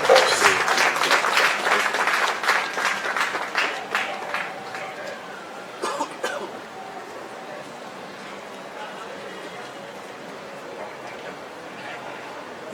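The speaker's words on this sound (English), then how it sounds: "Shall we please welcome him with a round of applause?" Audience applause fills a hall at an IEA evening event as a senior research fellow is welcomed to the stage, loud dense clapping at first, then thinning and fading into quiet room noise.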